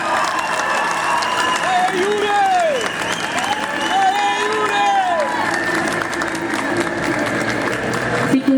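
Audience at an Anime Friends 2022 panel applauds and cheers Jujutsu Kaisen voice actors, steady clapping with shouted calls and whoops from the crowd and voices over the top.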